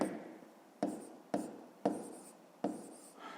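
A pen writes a fraction by hand during a fifth-grade math exercise, giving five short scratchy strokes with pauses between them, close and quiet, with no talking.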